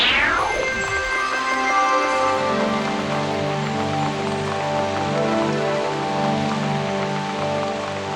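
Steady rain patters continuously under a sweeping musical score in an animated Hindi fairy tale, with no talking.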